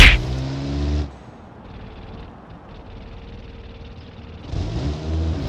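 In a BeamNG Drive simulation, a car with a 1.9 engine revs hard and then accelerates, its engine note dropping through the gears before rising again into a loud rev.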